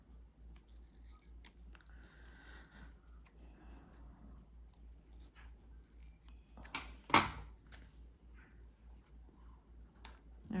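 Scissors trimming white edges off paper for a planner spread, quiet close snips and small clicks with one sharper cut midway, no talking.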